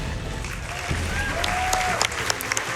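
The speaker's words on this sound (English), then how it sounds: "That's worth a clap" A burst of applause, steady clapping from a crowd with some sharper individual claps near the end.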